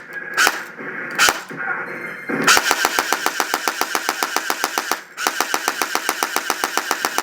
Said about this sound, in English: you can add that recoil sound to your gun